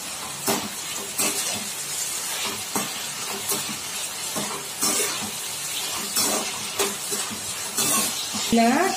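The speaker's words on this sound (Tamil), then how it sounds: "ஆனியன் நல்லா கலர் மாறது வர கொஞ்சம் வதக்கி வைக்கணும்." Onions sautéing in a pan for tomato rice, with a steady hissing sizzle broken by regular scraping stirs close by, and a brief clink near the end.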